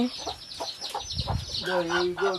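Chickens on a small farm raised without chemicals, including a broody hen, cluck and call repeatedly close by. Their short, choppy calls rise into a longer drawn-out cackle toward the end.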